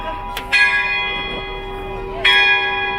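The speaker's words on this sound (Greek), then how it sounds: "Τι πάει και η καμπάνα." A church bell in a mountain village in Arcadia, Greece, rings out in two clear clangs with long shimmering decay, heard at a moderate distance over quiet background.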